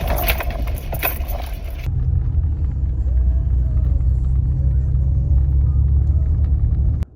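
A truck drives along the road with a steady, close, low rumble that continues without a break after a brief burst of broader noise at the start.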